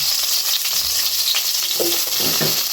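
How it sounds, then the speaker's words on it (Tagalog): Onion and pepper fry in a pan for pork sinigang, a loud continuous hiss of sizzling oil with soft scraping stirs near the end, heard close with no speech. "Haluin na natin hanggang mag-brown."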